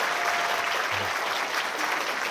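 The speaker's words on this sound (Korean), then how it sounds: "다시 한번 큰 박수 부탁드리겠습니다" A wedding crowd applauds steadily, a dense wash of clapping from many hands sustained without a break.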